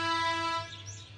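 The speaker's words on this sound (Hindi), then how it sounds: "में बस भी शोर मचा रही है" A bus in the background gives a loud, sustained tonal horn-like blare that holds for about half a second, then fades, with bird chirps faintly around it.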